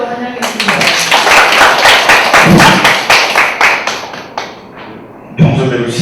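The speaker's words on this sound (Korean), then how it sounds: "박수로 또 환영해주십니다" An audience at an academic conference claps in a dense burst of applause lasting several seconds, fading out before a brief final flutter.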